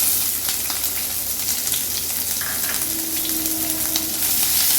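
Sliced onion sizzles in a small amount of hot oil left from frying fish, a steady crackling fry close up, with a few light stirring scrapes and no talking.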